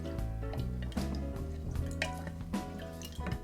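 Walnut nocino liqueur mixture being stirred by hand, quiet liquid sloshing and dripping with small clinks against the container, continuous and close over a few seconds, no talking.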